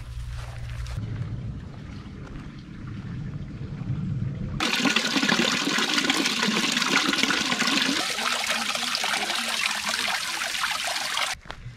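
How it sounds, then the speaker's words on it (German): Water runs from a spring in the Spessart nature park while bottles are refilled, a steady trickle that turns into a louder, closer gush partway through and holds until it abruptly stops, with no talking. "ich war jetzt nur ganz kurz an dieser Quelle und habe meine Wasservorräte etwas aufgefüllt"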